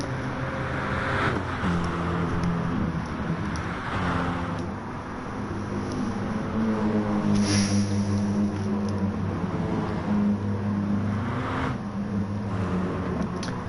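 Several race cars' engines in Gran Turismo Sport on the Blue Moon Bay infield circuit, a steady layered drone of close-running cars with pitch bands rising and falling as they shift and trade slipstream, continuous and loud with no talk.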